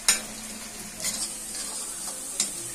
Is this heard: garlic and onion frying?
yes